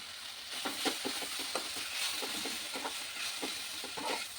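Garlic and turmeric frying in a pan for munagaku pachadi, drumstick-leaf chutney: a soft, steady sizzle broken by repeated scraping stirs, fairly faint and with no talk.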